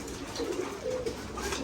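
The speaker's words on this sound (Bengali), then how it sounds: "এই যে সব কবুতর খাবার খেতে আসছে" Pigeons gathering to feed in a loft give low, soft cooing calls in short repeated phrases over a steady background hum, close and gentle.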